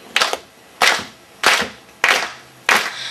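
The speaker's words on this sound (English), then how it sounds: "So you're going to clap the beat for me?" Hands clap out a slow, steady beat, five sharp, loud, close claps evenly spaced about two-thirds of a second apart.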